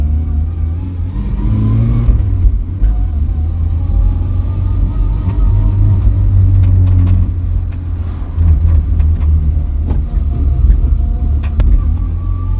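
A barn-find Vauxhall Viva drives along with its engine running on a freshly fitted, unadjusted carburettor, giving a steady close rumble with mild revving throughout.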